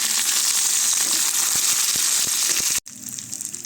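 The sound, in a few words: curry leaves frying in oil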